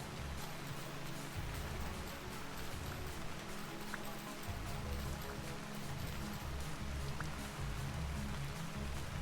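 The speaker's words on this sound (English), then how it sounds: "Man, I do love the rain in this game." Steady rain falls in the survival video game Vintage Story, a constant broadband hiss with faint low game ambience beneath it, continuous at low level throughout.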